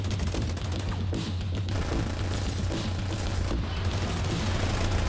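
Rapid gunfire from a PvP match in the video game The Division 2: dense, loud bursts of automatic shots running nonstop through the whole stretch.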